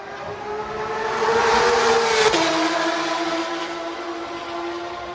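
Porsche 911 flat-six engine, a loud rising and falling engine note that swells toward the middle, drops sharply in pitch partway through as the car sweeps by, then carries on steadily.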